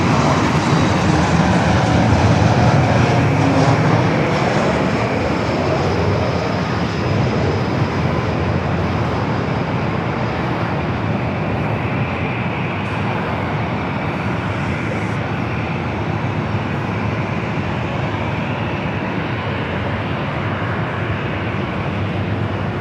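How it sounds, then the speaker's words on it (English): Delta Airbus A319 jet at LAX heading toward runway 24 left, a loud, steady broadband roar that holds for the whole stretch with no voices over it. "Delta A319 rushing over there to 24 left."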